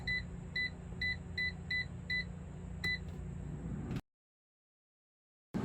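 An air fryer beeps at the end of its cooking cycle in a steady run of about eight short, bright electronic beeps over a low hum, followed by a stretch of near silence.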